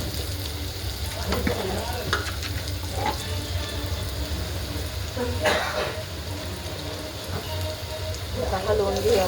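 Onion, garlic and coriander roast and sizzle in a pan with a steady hiss, broken by occasional scraping stirs, and a voice talks faintly underneath.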